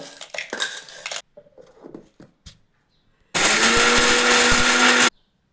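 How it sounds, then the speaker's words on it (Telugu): A mixer grinder blending mint chutney roars loudly for about two seconds, a steady whirring blend, after some brief clinks and kitchen knocks. "ఇప్పుడు పచ్చడి మిక్సీకి పెట్టుకున్నాము"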